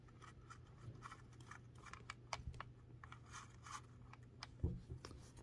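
Faint rapid shuffling and scratchy ticking from the clutch mechanism slipping inside a Toshiba BW-3112 Japanese typewriter, a series of soft irregular clicks over a steady low hum, with one slightly louder knock near the end.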